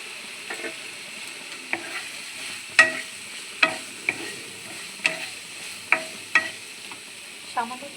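Meatballs dropped into a Chinese-style sauce in a frying pan, with a soft steady sizzle under a series of sharp utensil clicks and taps against the pan spaced about a second apart.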